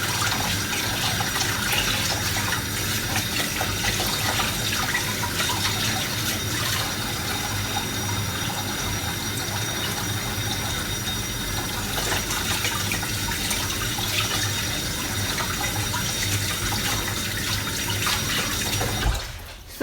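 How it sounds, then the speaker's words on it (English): Sausage meat being washed off hands under a running tap, a steady close gush of water into a sink that lasts throughout and cuts off abruptly at the end, with no talking. "you need to wash those sinews off your hand"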